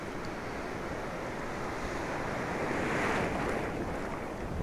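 Sea waves roll in continuously at Ganga Sagar, a steady broad surf roar mixed with gusty wind buffeting the microphone, swelling slightly midway.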